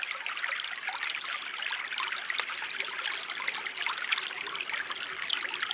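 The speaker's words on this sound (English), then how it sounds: "this way I can fill up my 2-liter even when the creek is very shallow" Shallow creek water trickles and gurgles steadily into a 2-liter bottle outdoors on a spring hammock camping trip in Wisconsin, a close, continuous bubbling splash with no voices.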